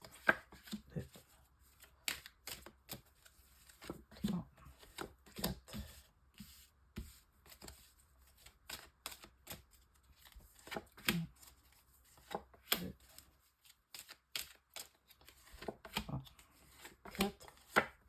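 Tarot cards shuffled for a nine-card spread, a quiet, fast run of papery riffles and slaps in irregular bursts across the whole stretch, heard alone without speech.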